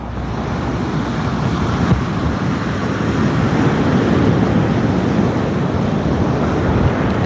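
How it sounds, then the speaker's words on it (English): Gusty wind buffets the microphone over waves at sea, heard from a kayak while sea fishing: a loud, continuous roar of low rumble and rushing water that swells slightly, with no speech. "What a blustery day."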